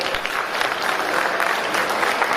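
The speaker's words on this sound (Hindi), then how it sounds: "कपिल नरवानी, उनके लिए भी तालियां बजाओ।" Audience applause fills a closing session of a national convention of Buddhist viharas, dense steady clapping from a large crowd held at an even level throughout, with no voices over it.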